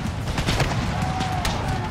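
A rolling musket volley in Empire: Total War with an American Civil War mod, many overlapping gunshots crackling together into a dense, continuous roar of battle fire.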